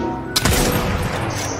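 Gunfire in a video game: a sudden loud burst of shots followed by a brief booming rumble that fades out.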